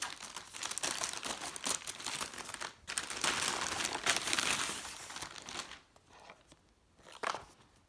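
Packaging crinkles and rustles up close as a Braun Beard Trimmer 3 (model BT3221) bought from Amazon is unboxed. Irregular bursts of crackling plastic and cardboard handling come with brief pauses and quieter moments near the end.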